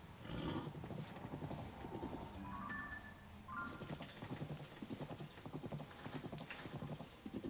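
Horse hooves in the Zelda Tears of the Kingdom video game: a steady, rhythmic clip-clop of galloping that runs throughout, with a brief whinny-like tone and a few soft game sounds mixed in.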